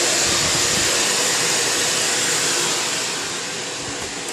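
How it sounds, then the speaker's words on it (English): A Miele S8590 canister vacuum cleaner runs at maximum power, a loud steady roaring whoosh that eases off slightly toward the end. "it's a little bit on the louder side, closer to a normal vacuum when you're up on maximum there"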